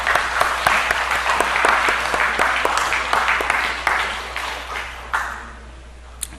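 A church congregation applauds during a Wednesday missionary commissioning service, a dense burst of clapping that tapers off toward the end, with a voice briefly heard.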